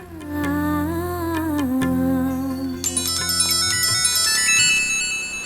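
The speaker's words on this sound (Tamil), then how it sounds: "யாரோ ஃபோன் பண்றாங்க, இத பிடிச்சுக்கோ." A mobile phone ringtone for an incoming call plays alone and loud. A sustained melodic tone gives way to a brighter run of ringing chime notes, with no voices over it.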